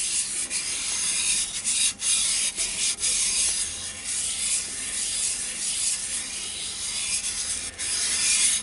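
Yorkshire Grit abrasive paste is rubbed by hand over a small turned wooden bowl, giving a steady, close, hissing scrape in continuous strokes with a few brief pauses.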